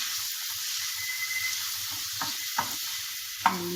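Potato samosa filling with fresh coriander is stirred in a hot pan, giving a continuous soft sizzle with a few light scrapes of the spoon near the end.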